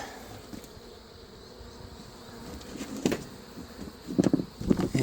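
Honeybees buzz steadily around a Florida mobile home during a hive removal, a close droning hum that swells louder toward the end with several sharper bursts as bees fly near.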